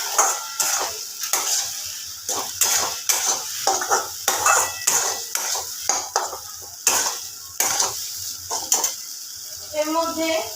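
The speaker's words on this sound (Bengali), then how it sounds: "এটাকে আমাকে পুরটা এই কড়ার মধ্যে খুন্তির সাহায্যে নেড়ে নেড়ে" A spatula stirs and scrapes dal filling drying in a kadai, rhythmic metallic strokes against the pan with a soft sizzle underneath, close and clear.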